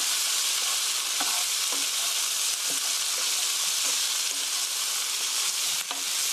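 Pork curry ingredients stir-fry in a hot pan, giving a loud, steady sizzle with a spatula scraping and tapping against the pan every second or so.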